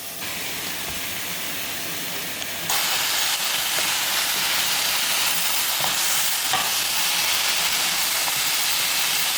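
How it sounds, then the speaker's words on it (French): Mushrooms and sauce go into a hot pan of sizzling meat pieces, and the frying hiss jumps louder at once, settling into a steady broad sizzle with faint stirring clicks and no talk. "je vais venir mettre des champignons et venir mettre ma petite sauce"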